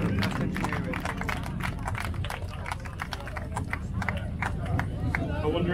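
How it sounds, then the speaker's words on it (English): Scattered handclaps and crowd murmur fill an outdoor hot rod and kustom car show, steady and fairly loud throughout, with people talking underneath. "This deserves a round of applause."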